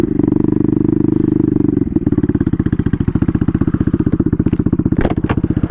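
Turbocharged Honda Grom with a swapped CBR engine pulling away in first gear, loud and close: a steady drone, then a rapid pulsing engine beat as it revs, with a few sharp pops near the end, no talk.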